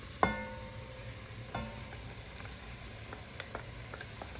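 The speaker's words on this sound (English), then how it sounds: "So I'll go in now with the corn" Corn goes into a pan already cooking sausage, okra and tomatoes, giving a few faint clacks and soft thuds over a low, quiet sizzle.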